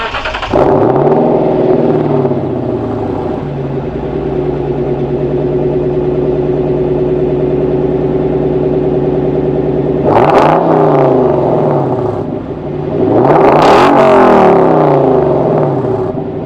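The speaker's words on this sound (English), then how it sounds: "so I'm probably gonna do an exhaust clip right now." A Lexus LC500 sits at a steady, loud idle after starting, then its exhaust is revved in two sharp bursts, one around ten seconds in and a longer, rising one near the end, with no voices.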